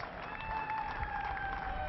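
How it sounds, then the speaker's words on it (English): At a cricket match, a crowd applauds a batsman's half century with a brief, steady wash of clapping and cheering that sounds a little distant, under a commentator's voice. "Will be applauded by his teammates"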